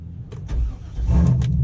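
Chevrolet Corvette C4 engine starting: starter cranks briefly before the motor catches and rises into a loud, rumbling idle, close by.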